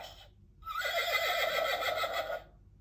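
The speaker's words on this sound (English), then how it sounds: "The horse loves to run." A horse neighs from a button on an Eric Carle animal sound book: one clear, close whinny with a wavering pitch that lasts about two seconds, with a short electronic tone before it.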